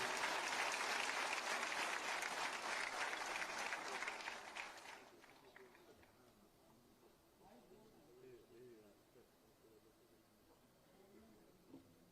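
Audience applause at a formal ceremony with an address by Uttar Pradesh's chief minister, loud dense clapping for about five seconds that then fades into quieter crowd murmur and background talk.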